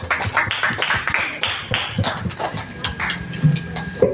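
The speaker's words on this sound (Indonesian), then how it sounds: "Tepuk tangan dulu semua" An audience claps at a final-round Islamic school quiz competition, a run of sharp, uneven handclaps close by that carries steadily for several seconds without talk.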